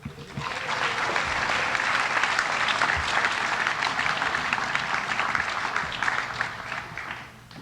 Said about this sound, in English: Please join me in a round of applause in recognition of our scholarship and award recipients.